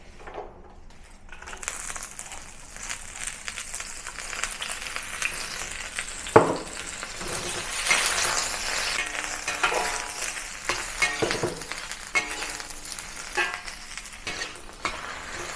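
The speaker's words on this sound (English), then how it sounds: "over medium heat, I'm going to stir fry the cabbage until it starts to soften." Cabbage stir-frying in vegetable oil in a wok over medium heat, a steady close sizzle with scraping spatula strokes and occasional metallic clinks, building and subsiding through the stretch with no talking.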